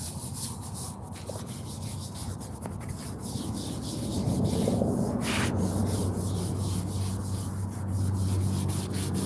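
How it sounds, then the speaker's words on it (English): Light scrubbing of a veterans' headstone with D2 cleaner, a steady brushing rub on stone that grows a little louder midway and continues close up, with a low hum underneath. "We'll just do a light scrub, work it in."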